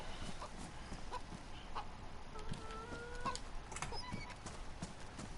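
A chicken clucks and clucks again in the video game DayZ on PS4, with moderately loud bird calls scattered over a steady ambient game background.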